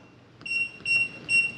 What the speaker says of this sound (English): It's going to beep long at me like it just did